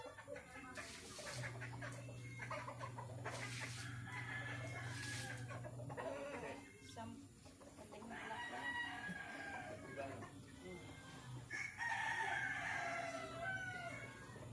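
Rooster crowing with hens clucking nearby on a farm, several crows and scattered clucks over steady background noise, with children and adults talking throughout.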